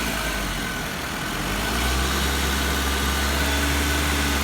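A Suzuki SX4 engine brought up to around 2,000 RPM, a steady loud hum with a low drone that thickens slightly partway through, heard alone without talk.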